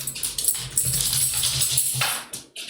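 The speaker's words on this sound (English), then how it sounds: "Let me know if my dog is too loud." A pet dog whimpers and gives a few short barks close to the microphone during a livestreamed game match, its sounds steady over background noise.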